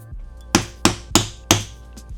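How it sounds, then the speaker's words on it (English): A hammer strikes a metal punch four times in a steady rhythm, driving rivet holes through a leather strap for a centre bar buckle; sharp, close, loud knocks with short decays over a low background hum. "I use that first piece as a template to trace and punch those out"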